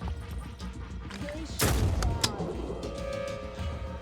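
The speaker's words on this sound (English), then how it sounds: "And one shotgun blast almost takes it out." A shotgun blast in the tactical game Phoenix Point, a single loud burst with a sharp crack that fades over ongoing game noise and voices.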